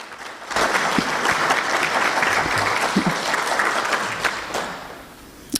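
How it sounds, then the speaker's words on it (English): A meeting audience at an annual gathering in Burlington, Kentucky gives a round of applause for a supporting farm. The clapping is dense, steady and close, lasting several seconds before fading slightly toward the end. "please give them a round of applause"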